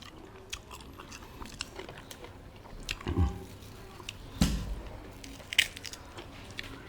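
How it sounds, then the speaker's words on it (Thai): Raw sweet big onion being bitten and chewed up close, with crisp crunching bites and moist squishing chews in an irregular rhythm, loud against a quiet background. "หอมกินไปเลยหอมใหญ่ หวาน"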